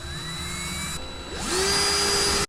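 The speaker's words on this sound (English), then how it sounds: "I think we're ready to drill" Drilling a hole sized for screws while building a water accumulator, a close, steady whining motor that drops briefly, then spins up to a higher, louder pitch before stopping abruptly.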